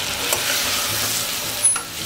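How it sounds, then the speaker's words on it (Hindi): Sabudana tossed in ghee sizzles steadily while a spoon stirs and scrapes through it, with a couple of sharper knocks against the pan close by. "साबूदाना को भी 1 मिनट अच्छी तरह से मिक्स कर लेती हूँ और घी में फ्राई कर लेती हूँ।"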